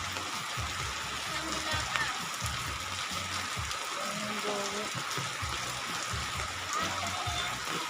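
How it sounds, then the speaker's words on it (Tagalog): Steady, dense rain pours down continuously, a loud hiss of water hitting surfaces with no break throughout. "Ang lakas ng ulan."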